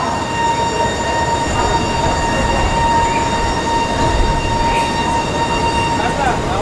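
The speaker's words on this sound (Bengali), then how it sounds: "মালদা থেকে এই ট্রেন ছাড়লো," The Haldibari Superfast Express pulls out of Malda Town station, giving a steady, close rolling rumble of the train with a faint high whine running throughout.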